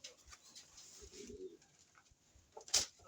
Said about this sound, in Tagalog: Ating mga ibon.